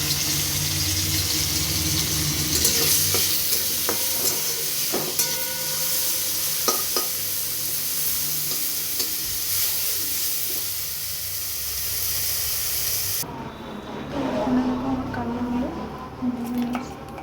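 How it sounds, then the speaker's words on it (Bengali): Vegetable pieces frying in a pan in a home kitchen make a steady sizzle, stirred with scattered clinks, before the sound shifts to running water from a tap near the end. "এবার আমি কালবাগুলো ভেজে নেবো"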